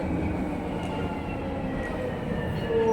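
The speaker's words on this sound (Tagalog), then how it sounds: "grabe puno ang train." A crowded London Underground District line train runs on its rails on a Saturday, a loud steady rumble with a faint wheel squeal near the end, no talk.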